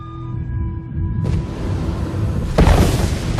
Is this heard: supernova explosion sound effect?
yes